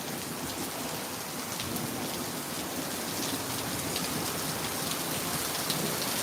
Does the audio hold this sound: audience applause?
no